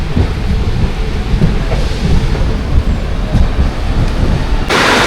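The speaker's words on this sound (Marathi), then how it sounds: "जोरदार पावसाला सुरुवात झाली आहे" Heavy rain pours down at Ratnagiri railway station, a dense, loud, steady roar with low rumbling thunder underneath and no talk, continuing without a break.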